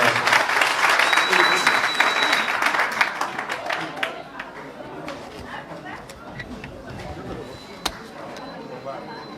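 Crowd applause and cheering at a Senegalese presidential campaign rally, a dense wash of clapping and shouts that stays loud throughout, with a few whistles and sharp peaks, then eases slightly toward the end.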